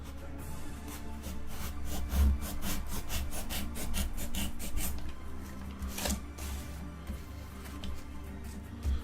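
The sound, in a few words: beveling wood for Middle-earth terrain piece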